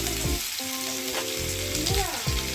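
Chana dal and crushed ginger frying in hot oil, a steady close sizzle with stirring scrapes and clinks of a spoon against the pan, alongside a sustained tonal hum in the background.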